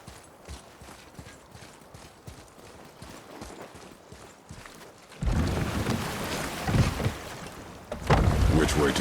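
Oars paddling a boat through water in the God of War (2018) video game, a steady series of splashing strokes beneath ambient game sound that grows louder and fuller midway through.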